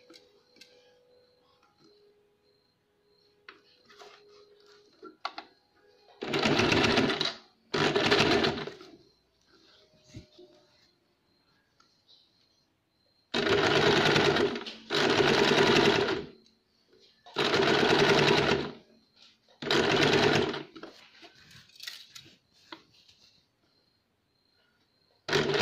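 A sewing machine stitches a pearl (moti) lace strip around a glass-neck style neckline in several loud, steady bursts of rapid stitching, separated by quiet pauses at the corners.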